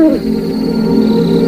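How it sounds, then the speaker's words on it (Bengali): An owl perched in a tamarind tree at a cremation ground at night gives a single close, resonant hoot that sweeps down and then holds steady. "পেঁচার ডাকটা সমস্ত শ্মশানটা যেন কাঁপিয়ে তুলল।"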